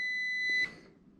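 A continuity tester touched to bare tractor frame metal gives one short, steady electronic beep, clear and close, cut off after about half a second.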